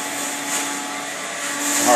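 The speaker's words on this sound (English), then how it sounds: "our extractor pulls the moisture out of the carpet" A carpet water extractor pulls moisture from a flood-damaged basement carpet, making a loud, steady whining suction roar close by that holds even for two seconds with a slight rise at the end.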